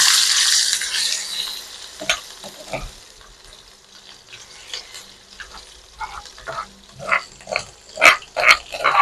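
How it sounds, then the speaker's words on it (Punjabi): Pounded ground spice masala dropped into hot oil, a brief hiss at first, then a quieter pause before a run of sharp, close stirring scrapes and clinks. "ਤੇਲ ਆਪਣਾ ਗਰਮ ਹੋ ਗਿਆ ਤੇ ਇਹਦੇ ਵਿੱਚ ਆਪਾਂ ਪਾ ਲਾਂਗੇ ਮਸਾਲਾ ਜਿਹੜਾ ਕੁੱਟਿਆ ਹੋਇਆ"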